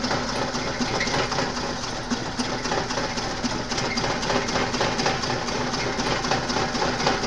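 A rough-running, misfiring engine in a 1997 Suzuki Baleno, heard up close as a steady, dense mechanical clatter that keeps going without a break, with no talking over it.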